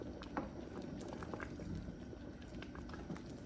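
Homemade plum jam boils in a pot, giving a soft, steady bubbling with faint pops and blips, fairly quiet and close, with no talking.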